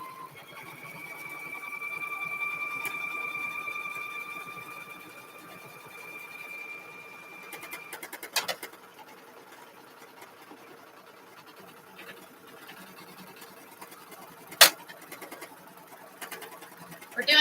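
A sewing machine stitches in a steady whirring run for several seconds, then stops, followed by quieter clicks and handling sounds close by.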